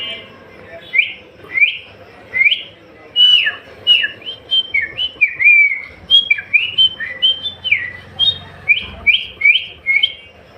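A person whistles and voices an imitation of a parrot's call, a rapid series of sharp, rising chirps and squawks repeated about twenty times over ten seconds, loud and close with no other sounds.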